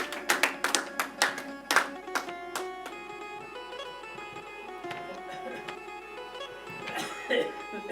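Audience at a Hindi poetry gathering of patriotic songs claps in a burst of sharp, irregular hand claps that fade into a murmuring room with a sustained tonal background, then a brief swell of clapping returns near the end.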